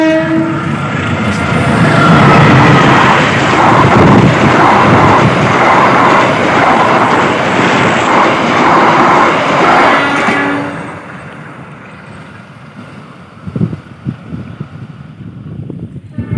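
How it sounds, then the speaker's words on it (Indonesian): The Serayu passenger train in Indonesia roars past loudly near Tasikmalaya fuel terminal, with rumbling wheels and clatter for about ten seconds, then fades to quieter ambient noise with a few knocks. "inilah kereta api Serayu ya, akan melintas di belakang fuel terminal BBM Tasik ya"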